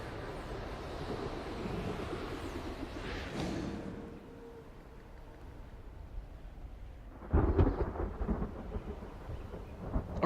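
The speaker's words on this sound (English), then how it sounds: "I'm still hearing lightning, but I'm not seeing it." Thunder rumbles through a stormy scene in the video game Black Myth: Wukong, a long rolling roar that fades, then a louder sharp crack and rumble breaks in near the end, with wind-like noise throughout.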